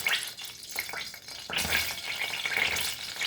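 Mustard and cumin seeds, a teaspoon and a half each, hit hot oil for a Goan potato bhaji, giving a close, bright sizzle that swells sharply halfway through and keeps crackling to the end.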